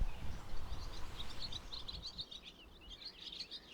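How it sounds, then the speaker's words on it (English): Swallows call around granite farm barns with faint, rapid twittering chirps that come in short bursts over a low rumble of wind or outdoor background noise. "Swallows emerge from the granite barns."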